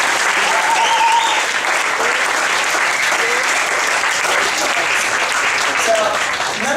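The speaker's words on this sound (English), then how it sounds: "can we give them a round of applause for this?" Round of applause from a workshop audience, a loud, continuous wash of clapping lasting several seconds with faint voices mixed underneath.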